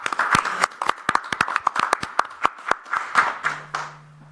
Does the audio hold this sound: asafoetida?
no